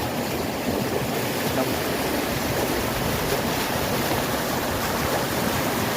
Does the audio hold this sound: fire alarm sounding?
no